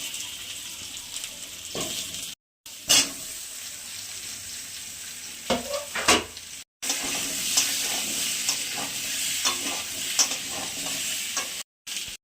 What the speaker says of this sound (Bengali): মাছগুলো ভাজা হয়ে গেছে, কপিগুলো ভেজে তুলে নেব